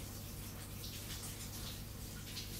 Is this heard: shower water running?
yes